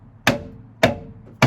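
Three heavy hammer blows strike a Fiesta ST150 rear wheel bearing, each a sharp metallic impact with a short ring, spaced roughly half a second apart, loud and close.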